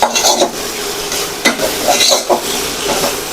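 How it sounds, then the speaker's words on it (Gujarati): A utensil stirs masala chutney cooking in oil, with repeated scraping strokes against the pan over a continuous loud sizzle, close up and without speech. "આવી રીતના હલાવતા રહેશું એટલે ચટણી બરાબર તેલમાં પાકી જશે"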